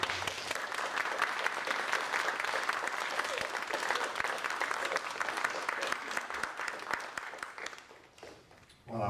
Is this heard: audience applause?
yes